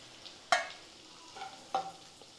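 Boiled eggs frying in a pan during Tamil home cooking, quiet soft sizzle with two sharp clattering stirs of a utensil against the pan and a few lighter scrapes between them.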